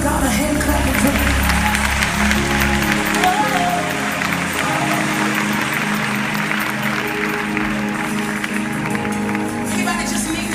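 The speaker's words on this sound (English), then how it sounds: "Give God a hand clapping for me." Continuous clapping from a gospel concert audience, with loud crowd noise mixed with singing and music throughout.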